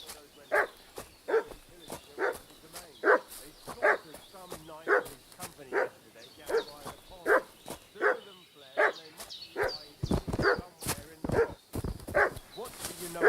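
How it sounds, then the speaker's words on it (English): A dog barks repeatedly in Kingdom Come: Deliverance II, a long run of evenly spaced, fairly close barks that grows busier and louder toward the end, with speech heard alongside. "What's that dog making such a fuss about?"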